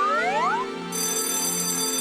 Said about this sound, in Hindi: घंटी बज गई, मुझे जाना होगा।